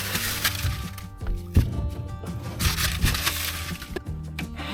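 Prying and chipping old flotation foam out of an aluminum john boat, heard as close, irregular cracking, scraping and crunching knocks over a few seconds.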